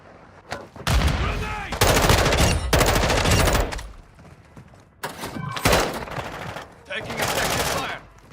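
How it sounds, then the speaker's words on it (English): Sustained automatic gunfire from Call of Duty DMZ rattles in several long loud bursts, with short pauses between them, over game ambience and a radio voice. "Taking effective fire."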